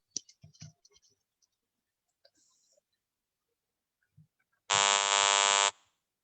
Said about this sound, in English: Your time will start with the buzzer sound